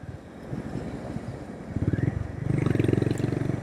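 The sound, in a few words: Honda CB350 RS motorcycle engine while riding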